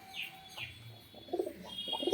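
A black Jack pigeon gives a few close, low coos, with some chirps and faint background noise.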